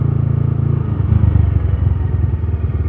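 A motorcycle ridden without using the clutch revs up as it accelerates, giving a steady, loud mid-pitched engine drone with a pulsing rumble that shifts slightly in tone partway through, heard alone with no talk.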